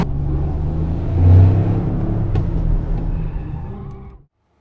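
A 2025 Toyota GR Yaris automatic accelerates at full throttle on the Nürburgring Nordschleife, its engine a steady, loud interior drone that swells and then holds before cutting off abruptly near the end.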